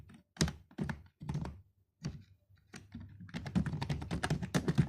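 Bursts of typing on a computer keyboard, close and fairly quiet, come in short clustered runs with brief pauses, then a denser, faster stretch of keystrokes toward the end.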